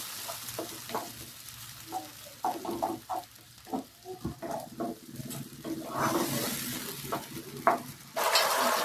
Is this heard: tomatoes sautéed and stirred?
yes